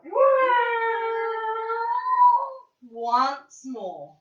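Children's voices imitate a cat, one long drawn-out meow followed by two shorter meow-like calls, loud and close, during a primary-school movement exercise.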